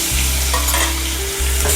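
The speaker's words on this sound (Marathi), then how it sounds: "चण्याला परतून घेते" A short, loud stretch of chickpeas frying with cumin, curry leaves and ginger-coriander paste, a thick close sizzle with a low steady hum beneath and faint scrapes from stirring, no speech.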